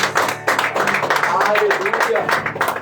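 A church congregation applauds, dense sustained clapping filling the room while a voice speaks over it.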